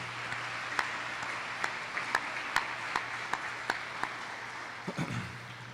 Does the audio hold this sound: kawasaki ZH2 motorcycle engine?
no